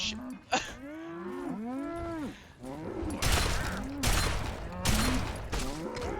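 Several cows moo in long, sweeping calls that overlap one another in Fallout 3, joined later by bursts of rapid gunfire.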